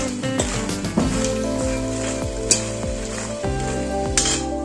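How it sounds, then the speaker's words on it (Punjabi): Makhana (fox nuts) roast in a pan for panjeeri, crackling and sizzling steadily up close while a utensil stirs and scrapes at intervals, with no voices. "ਮਖਾਣੇ ਅਸੀਂ ਭੁੰਨ ਲਏ ਆ"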